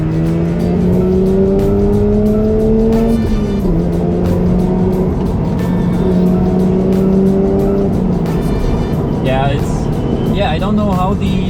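Mazda RX-8 rotary engine revving hard on a touge mountain road drive, loud rising engine tone with gear-change dips and tire squeal near the end, heard under someone talking.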